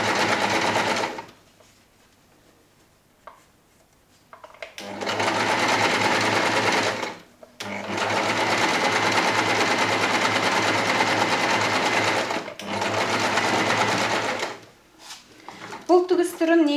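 A sewing machine stitches a French seam with backtacks at start and end, running in three long steady buzzing bursts separated by short pauses, with faint handling sounds in between.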